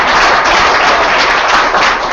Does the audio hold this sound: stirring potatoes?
no